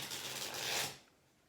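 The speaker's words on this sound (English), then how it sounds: "let me look at these while I'm shuffling this next deck" A deck of tarot cards is shuffled close up, a dense papery riffle and rustle lasting about a second before fading into quiet.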